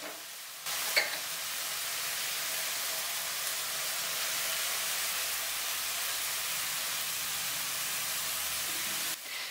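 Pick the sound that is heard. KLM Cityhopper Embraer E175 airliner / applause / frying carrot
frying carrot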